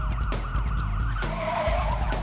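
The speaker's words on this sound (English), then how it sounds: "The SUV takes the brunt, spinning across the road after slamming into the suspect's sedan." An SUV slams into a sedan and spins across the road, heard as a loud crunching impact followed by screeching tires and rumbling, with a siren wailing behind in traffic.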